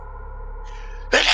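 A single sharp, loud sneeze bursts out near the end, over a steady low hum and faint background voice.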